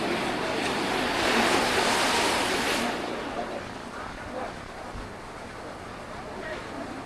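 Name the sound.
sea waves near the Bhadkeshwar Mahadev temple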